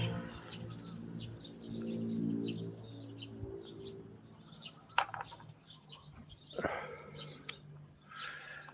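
Birds call on a farm in Sukhothai, Thailand: scattered chirps and tweets repeat across the clip, with a low cooing pigeon or dove and some nearby knocks and rustles, no voices.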